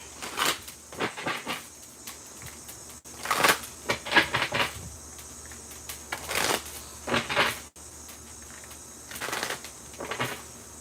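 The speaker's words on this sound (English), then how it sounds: "I hope my shuffling is not very loud" Tarot cards being shuffled by hand, heard as repeated soft riffling bursts and flutters at close range, with short pauses between shuffles and no talking.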